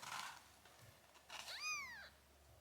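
A mother cat in a barn lets out a single clear, drawn-out meow close by, with soft rustling just before it and no talk. The newborn kittens are not separately audible.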